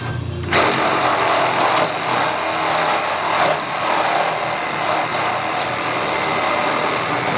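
A power tool cuts through rusted carriage bolts on a 1977 Polaris TX 340 snowmobile, a loud steady high-pitched grinding whine that starts abruptly and runs unbroken, close up, with no talk.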